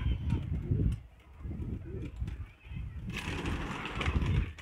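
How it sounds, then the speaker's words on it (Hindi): Pigeons coo in low, throaty murmurs close by at a bird setup, with rustling and background noise around them. "तो दोस्तों जो है ये देखिए, सारे कबूतर जो है"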